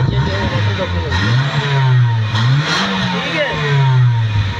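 A Suzuki Cultus car fitted with a hydrogen HHO kit revs its engine up and down several times close by, the pitch rising and falling in a steady rhythm while faint voices carry in the background.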